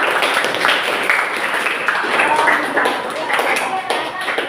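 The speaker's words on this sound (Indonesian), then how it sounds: "beri tepuk tangan dulu anak-anak" Schoolchildren clap together in a classroom, a dense, steady patter of many small hands filling the room for several seconds, with voices mixed in.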